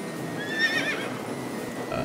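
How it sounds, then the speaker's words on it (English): A single short, bright horse whinny from the AI: The Somnium Files video game, rising and falling over about a second against a steady low background hum, with no talking. "A horse?"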